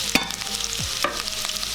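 Ginger and chopped garlic sizzle in reused pakora oil while being stirred, a close, bright frying crackle with a couple of sharp utensil scrapes.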